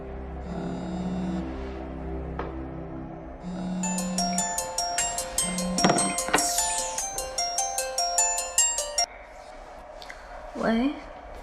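A phone rings as a call is placed, a rapid run of bright, evenly pulsed melodic tones repeating for several seconds, with a voice speaking over it.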